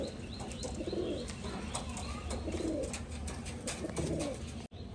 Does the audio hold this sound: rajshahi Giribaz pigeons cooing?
yes